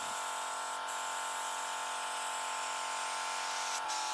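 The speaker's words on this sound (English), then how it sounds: "a spray tool to work on loosening more rust from the body" A steady, close spray hisses continuously onto rusty car body metal with a faint mechanical hum beneath, cutting out briefly near the end before resuming.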